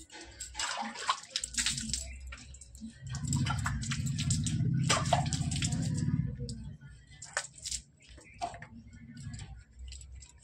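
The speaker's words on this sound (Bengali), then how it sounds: "তো চলো মুখটা ধুয়ে নিই" Water runs from a tap while a face is washed, a steady rush that swells mid-way alongside splashing and dripping, with scattered small knocks and clicks around it.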